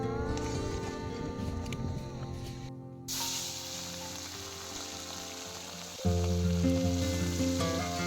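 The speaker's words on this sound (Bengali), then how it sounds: "পুঁটি মাছ কেটে নুন হলুদ মেখে রেখেছিলাম, এটা এবার ভেজে নেব।" Puti fish (pool barb), rubbed with salt and turmeric, frying in hot oil with a loud, steady sizzle. A brief gap interrupts it and a deeper hum joins partway through.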